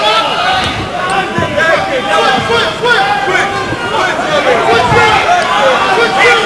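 Crowd at a kickboxing fight between Roberto Minniti and Steven Dean roars and cheers continuously, loud and close, with scattered shouts and thuds under the babble.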